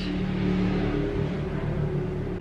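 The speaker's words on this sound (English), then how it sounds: "Who's driving the car so fast, so early in the morning?" A car speeds past outside early in the morning, its engine a steady, loud rumble that holds throughout with no voices over it.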